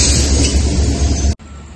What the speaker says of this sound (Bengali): বলতে না বলতেই একটা ট্রেন এসে পৌঁছে গেছে